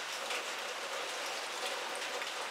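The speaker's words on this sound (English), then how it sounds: "it's raining out there" Steady rain falls outside at dusk, a soft continuous hiss of drops with no distinct pattering, even and unbroken throughout.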